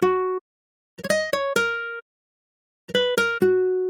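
Dry guitar melody programmed in FL Studio, a few short plucked phrases of two to four notes separated by silent gaps, clean and fairly quiet with no reverb tail.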